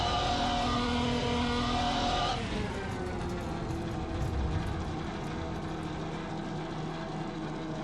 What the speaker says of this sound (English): The downshifts weren't synchronized at all coming down on the first lap into turn.